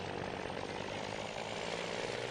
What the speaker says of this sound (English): It sounds a little bit different. It's got a Detroit diesel.